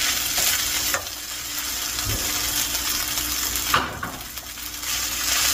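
Food being stirred and mixed in a pan with homemade kimchi, scraping and clinking with a soft sizzle throughout and a few sharper knocks, no talking.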